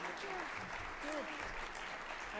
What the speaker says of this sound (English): if everybody could just join me again in a round of applause for Dr. Bourgeault.